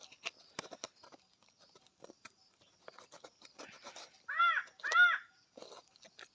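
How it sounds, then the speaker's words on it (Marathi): A crow caws twice in loud, close, harsh calls near a vermicompost bed on a farm after rain, with scattered patter and small rustling noises around it. "कावळा बी आला"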